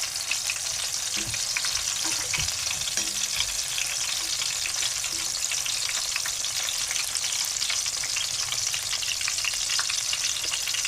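Ridge gourd fritters frying in hot oil, a continuous loud crackling sizzle with a bright hiss, close and unbroken throughout, with a few faint low knocks of handling.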